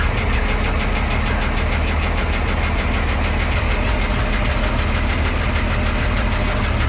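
A 1948 Dodge B-1-D truck engine idling just after a cold start with the choke partly in, a loud, close, steady rumble with an even knocking pulse and no talk.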